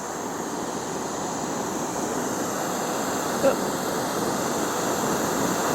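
A portable gas camping stove burns with a loud, steady roar throughout, someone talking over it.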